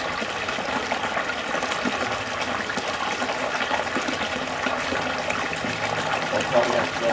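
Water rushes steadily off the end of a sluice box while old gold-mining tailings are re-run, a continuous gushing wash that stays close and even.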